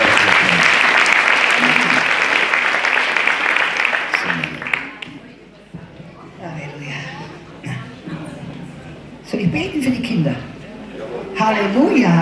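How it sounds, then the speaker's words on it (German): Church congregation applauding during a children's blessing at a service, loud dense clapping at first that fades after about four seconds, with talking and voices over quieter scattered claps before the applause swells again near the end. "Jawohl, Applaus, Applaus."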